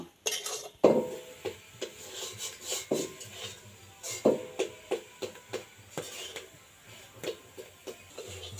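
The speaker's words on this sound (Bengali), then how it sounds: "এই টাইমে কিন্তু অনবরত নাড়াচাড়া করতে থাকা লাগবে নইলে পরে কড়াইতে লাগতে পারে" A spatula stirring an egg mixture in a wok while making palm-fruit pitha, producing a run of close, rhythmic scrapes and metallic knocks at irregular intervals, with no voices.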